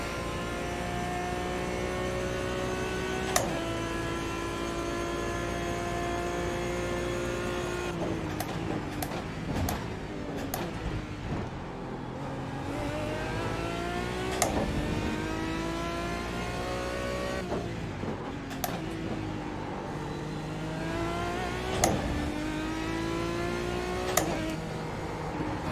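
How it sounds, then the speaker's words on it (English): GT1-class race car engine in a sim racing game, revving up and down through gears over a 30-minute race, with repeated sweeping pitch climbs and brief sharp cuts where it touches the rev limiter, steady and moderately loud. "Ah, rev limiter."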